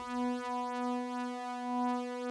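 Iridium synthesizer playing a single sustained note from ring-modulated sine waves, one oscillator synced, giving a steady bright buzzing tone with many even harmonics and a gentle slow pulsing swell, heard alone.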